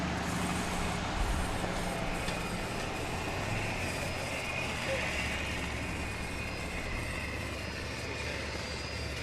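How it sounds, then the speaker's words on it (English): A water truck rolls by at a dirt race track, heard as a steady broadband engine and tire rumble that stays fairly constant throughout, with faint outdoor noise. "Got the water truck coming back by."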